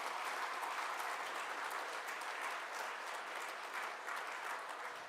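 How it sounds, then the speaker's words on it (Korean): A church congregation claps steadily throughout a worship service, a dense, even wash of many hands at moderate distance with no speech over it. "격려의 박수 뜨겁게 한번 쳐주시기"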